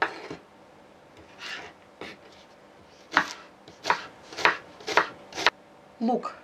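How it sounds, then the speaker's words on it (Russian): A knife chops an onion on a cutting board in a string of sharp, uneven strokes, with short pauses between cuts and quiet background noise. "Теперь нарезаем лук репчатый."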